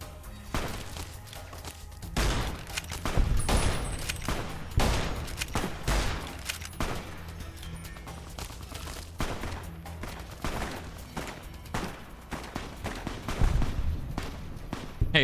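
Repeated gunfire bursts and single shots in the video game Fallout: New Vegas, an irregular firefight of loud cracks and volleys spread across the whole stretch with scattered thuds and footsteps.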